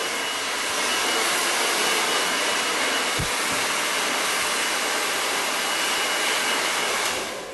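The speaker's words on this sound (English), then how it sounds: "when you've got the hair heated up from the blow dryer, like so" A handheld hair dryer blows continuously while styling hair with a brush, giving a loud, steady rushing whoosh close by, with one brief soft knock partway through and no talking.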